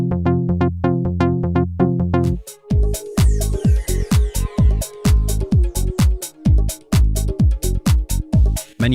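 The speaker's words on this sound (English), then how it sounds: "you can not only use it as a bass sound, but also as a lead sound" Lately Bass FM synth preset played as a lead, opening with a quick run of plucky repeated notes before a busy house groove with drums kicks in under the bright, percussive FM lead line.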